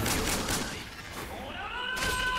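Gunfire in the online game Roblox, a quick run of loud shots at the start easing into a thinner rattle, with a short whistling tone sliding through the middle before another burst.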